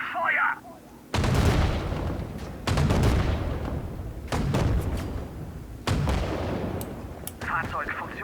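A tank cannon in the Sudden Strike 4 war game fires on a watchtower. Several heavy booming shots land at intervals, each followed by a long rumbling decay, with short game voice lines at the start and end.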